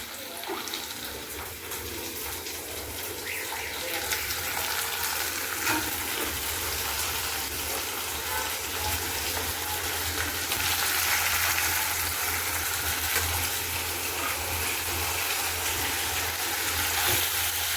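Lote fish (Bombay duck) frying in a pan, a steady loud hiss of sizzling oil and water running for the whole stretch with no talk.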